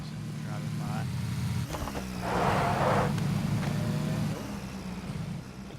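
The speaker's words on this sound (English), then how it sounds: "Another person driving by." A car drives by in the PUBG battle royale game, its engine hum swelling louder then fading away in the middle distance while someone talks over it.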